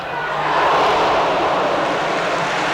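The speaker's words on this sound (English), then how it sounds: "The crowd were entitled to ooh" A football crowd at a Leeds United v Manchester United match lets out a loud, swelling ooh after Hunter's free-kick shot, a broad roar that rises quickly and holds for a couple of seconds with no talk over it.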